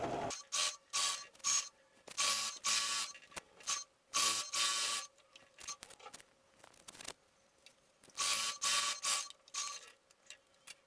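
Domestic sewing machine stitching the waistband of a fleece sweatshirt, running in repeated short bursts of rapid whirring and clatter broken by pauses and light handling noise, close and fairly loud.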